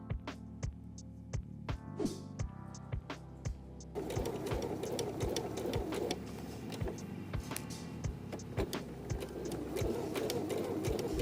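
A sewing machine stitches the shoulder seam joining the front and back bodice of a jumpsuit, its steady run of rapid needle clicks broken by brief pauses, close and clear over a low motor hum that grows fuller partway through.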